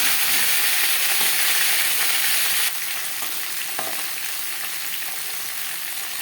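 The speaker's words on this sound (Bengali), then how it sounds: "ফোড়নের সাথে পটলটা ভালো করে মিক্স করে দেব" Pointed gourd being stirred into hot oil with tempering spices for a vegetarian tel potol, with a steady loud sizzle and soft scraping of the spoon throughout, the frying noise easing slightly partway through.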